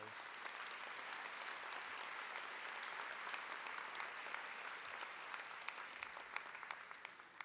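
Sustained applause from a large audience at a university opening convocation, steady and dense throughout with sharp individual claps scattered across it, no voices heard.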